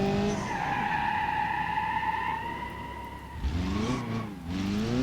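Ibishu 200BX sliding sideways in BeamNG.drive, tires squealing in long sustained skids over a steady engine drone, with a brief break and a second screeching slide near the end; no voices.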